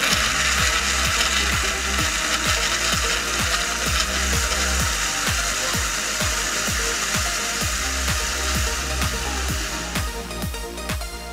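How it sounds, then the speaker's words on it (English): A blender whirs loudly and steadily, blending papaya, mango, pineapple, banana, orange zest and orange juice into a smoothie, with a rapid rhythmic chopping pulse under the motor's roar throughout. "Once I've placed my papaya, mango, pineapple, banana, orange zest and orange juice into the blender,"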